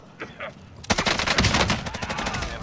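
Gunfire in the video game Call of Duty: Modern Warfare: after two soft early pops, a loud sustained burst of rapid automatic shots runs on, dense and close.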